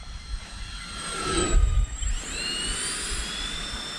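Freewing F-14 Tomcat 80mm electric ducted-fan RC jet doing a touch and go with gear and full flaps down, a steady high turbine whine that rises in pitch as it passes and powers up, heard from the ground nearby.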